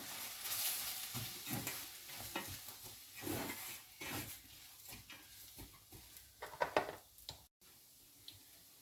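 Beef is stirred with Kashmiri chili powder in a pan, giving soft, irregular scraping and stirring strokes over a faint sizzle, quiet and close.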